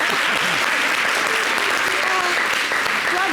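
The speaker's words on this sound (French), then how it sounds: "On applaudit ça maintenant." Studio audience applause fills a television talk show set, a steady dense wash of clapping held for a few seconds with faint voices underneath.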